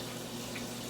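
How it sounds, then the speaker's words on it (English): Cold tap water pouring into a pot for boiling eggs, a steady close hiss of filling water for about a second, with no voices. "we need to fill our pot with cold water."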